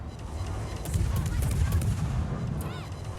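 Naval guns on the destroyer Kitakaze fire shells at the battleship Gneisenau in World of Warships, with dense booming gunfire and rumbling impacts. Sharp reports repeat over a constant low roar.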